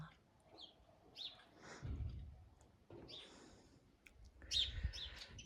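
Faint bird chirps and tweets come in scattered bursts outdoors from birds nesting near a balcony, with soft wind and rustling in between.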